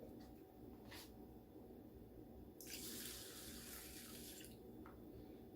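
Tap water runs briefly into a measuring container for rice water, a soft hiss that swells for a couple of seconds and then cuts off. Faint clinks come before it, and the whole sound is quiet with no talk.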